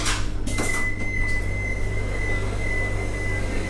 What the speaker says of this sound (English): Doors open on left side.